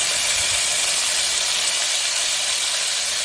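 Diced red onions and a little white onion sizzle in two slabs of butter in a pan, a steady loud hiss and crackle that holds evenly throughout.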